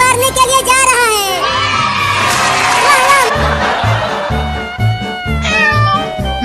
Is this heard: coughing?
no